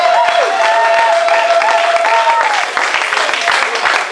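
A church congregation applauding loudly and steadily, dense clapping that carries on without a break, with voices and a sustained sung or called tone running through it.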